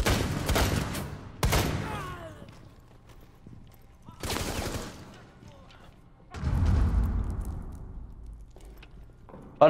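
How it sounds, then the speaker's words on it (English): Rapid bursts of gunfire and a heavy blast as an enemy terrorist explodes in Rainbow Six Siege's Terrorist Hunt mode, loud salvos separated by short pauses, with a booming rumble and a talking player underneath. "I shot that guy in the doorway and he just exploded instantly"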